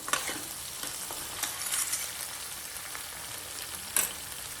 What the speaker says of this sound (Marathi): 2-3 मिनिटात चांगलं परतून घेतलं आता मी.